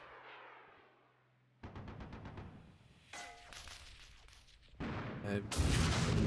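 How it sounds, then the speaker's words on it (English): Tank cannon fire aimed at a Fuchs APC in the Armored Brigade 2 war game: a few sharp, loud shots and impacts with clangs, spaced irregularly across a short stretch of battle noise. "we get to shoot at this Fuchs APC now"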